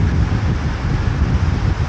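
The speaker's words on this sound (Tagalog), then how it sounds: "Tsaka mahangin." Steady wind buffets the microphone with a low, continuous rumble and hiss on a rainy day heading to Boracay Island, loud and unbroken throughout.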